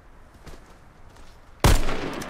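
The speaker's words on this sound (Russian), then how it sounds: "Ты три выстрела сделал." Gunfire in the online shooter Warface: a single sharp, loud shot bursts out near the end of a quiet stretch and decays quickly, with faint game ambience before it.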